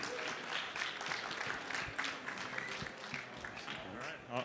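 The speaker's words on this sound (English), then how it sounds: "please give a round of applause to Joshua Stone and Charles Hoskinson" An audience at a stage event on digital media applauds, dense clapping heard fairly distant and steady throughout, with voices faintly mixed in.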